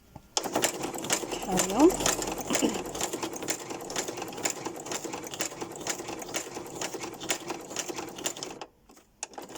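Domestic sewing machine stitching through fabric printed with a Dracula head, a steady rapid needle drone running nearly throughout while a person talks over it.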